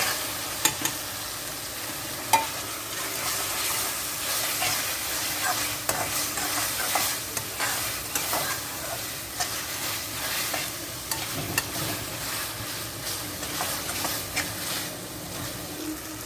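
Ground cumin, garam masala, coriander, turmeric and black pepper roast in a pan for radish bhurji, a steady soft sizzle under repeated spoon scrapes and light taps, close by with no voices.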